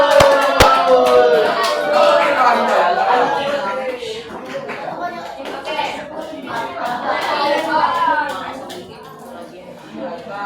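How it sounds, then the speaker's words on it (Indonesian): A class of schoolchildren claps for a group of classmates. Scattered hand claps sit under loud, overlapping voices and chatter, with a few sharp taps near the start. "Tepuk tangan buat kelompok dua."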